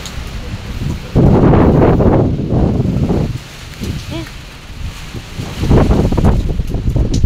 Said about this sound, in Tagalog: Lakas pa din ang hangin.